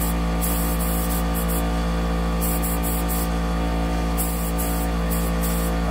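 A spray gun or aerosol paint coats a metal vertical smoker laid out on plywood, giving a steady loud hiss with brief bursts and pauses throughout, no talking.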